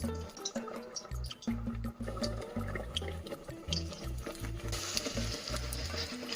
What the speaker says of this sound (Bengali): একটা একটা করে এভাবে তুলবো তুলে তেলে ফ্রাই করবো